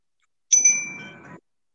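One strike of a yoga meditation bell rings out clearly on its own, a sharp metallic ding with a shimmering tone that decays within about a second.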